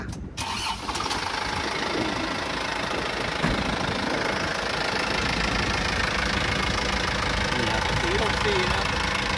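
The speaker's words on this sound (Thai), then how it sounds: "เดี๋ยวสตาร์ทเครื่องให้พี่ๆฟังหน่อยดีกว่" An Isuzu NKR 100 hp four-wheel truck cranks and fires up, then settles into a steady, loud diesel idle with a knocking rumble that carries on for the rest of the stretch.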